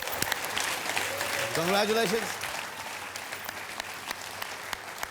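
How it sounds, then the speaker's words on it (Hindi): Audience applause rings out steadily through a Hindi TV game show in a studio, as a contestant pair, Deepika and Ranbir, compete. The clapping runs throughout, with a voice briefly speaking over it. "तालियां, सुपर,"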